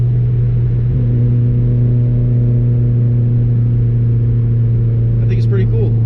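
A 1993 Subaru Vivio non-turbo kei car hums steadily from the engine as it drives, a constant low drone with strong tonal bands and no clear revving swell, staying close and loud throughout the whole stretch.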